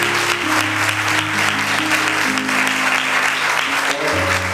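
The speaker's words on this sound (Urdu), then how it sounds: "ذرا ان کے لیے بھرپور تالیاں اور ان کی ساری ٹیم کے لیے" Loud, steady applause from a church audience at a Christian gathering in Gujranwala, greeting a pastor and his team, with sustained organ or keyboard tones droning underneath throughout.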